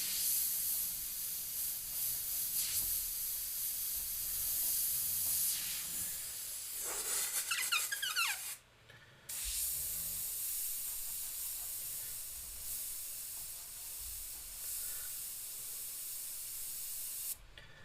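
An airbrush spraying stain onto a skull painting gives a steady close hiss, broken by brief sputtering bursts and a short pause midway before the spray resumes.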